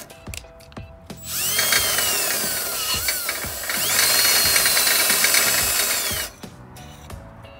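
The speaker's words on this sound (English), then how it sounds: "And we just start drilling away." A power drill whines steadily through the stock exhaust metal of an Indian Scout Bobber motorcycle for several seconds, loud and close, with clicks and clatter before and after.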